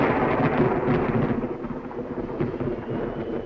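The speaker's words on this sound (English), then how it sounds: "Away from the thunder" Deep, rolling thunder from a 1940s film soundtrack, a sustained loud rumble that swells at the start and then settles into a lower, steady roar, with no voices over it.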